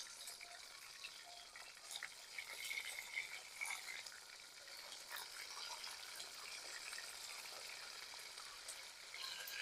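Food fries in a pot at an outdoor cooking spot in Jamaica, with a soft, continuous sizzle, bubbling, and occasional stirring scrapes, fairly faint and with no voices.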